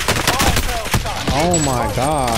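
Rapid gunfire bursts in a team shooter video game, crackling under excited voices calling out positions, with loud overlapping speech throughout.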